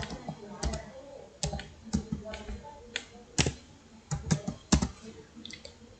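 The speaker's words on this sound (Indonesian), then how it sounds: "Kita ketik ID petugas." Keystrokes on a computer keyboard while entering an officer ID into a form field, an uneven run of light, close clicks and taps at quiet level, with brief pauses between clusters.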